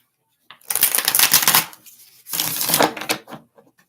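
A deck of cards is shuffled for a reading in two loud, close riffling bursts separated by a short pause, with no speech.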